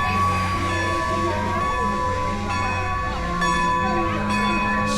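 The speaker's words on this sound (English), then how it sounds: "and here are the bells" A bell clangs steadily with a sustained ringing tone over the rumble and hiss of an idling steam train on the Strasburg Rail Road, with a low engine drone underneath.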